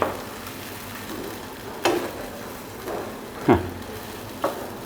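Eggs frying quickly in a pan, a steady soft sizzle running underneath with a few louder clatters of a utensil stirring or scraping near the start, middle and end.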